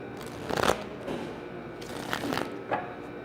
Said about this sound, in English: Give me a minute to give a shuffle.